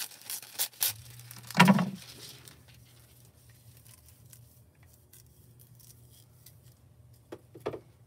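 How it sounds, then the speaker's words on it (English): A few sharp crinkly snips of sticky scissors cutting foil and a brief crackle of foil, close up, then a quiet hum with a couple of small clicks near the end. "my scissors are sticky. They're not cutting my foil right."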